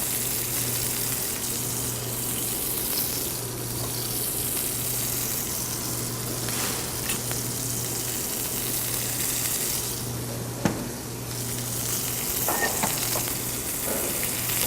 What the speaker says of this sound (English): Start to see real nice sear there.